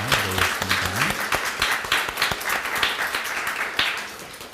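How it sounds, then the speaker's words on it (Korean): A church congregation at a Sunday service claps together in a full, lively round of applause, with a few low musical tones sounding briefly at the start. "우리 박수로 환영하겠습니다."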